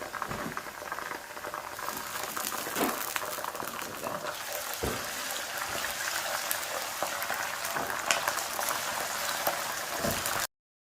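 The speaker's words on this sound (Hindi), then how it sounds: "अब हम इसमें जो है ना जिंजर गार्लिक पेस्ट डाल देंगे" Ginger garlic paste sizzles in a pan of browned onions for a mutton karahi, giving a close, steady crackling hiss with small popping spatters throughout.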